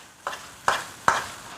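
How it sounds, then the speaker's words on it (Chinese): Ham, scallion, garlic, chili and young ginger are tossed in a wok over high heat, with three sharp, evenly spaced scraping strokes of the spatula over a soft background sizzle. "继续用大火给它翻炒均匀"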